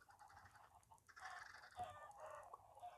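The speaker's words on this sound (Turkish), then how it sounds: "şuradaki tavuklar yumurtluyor" Chickens in a video game cluck and squawk in short bursts against a faint background hum, with no talking.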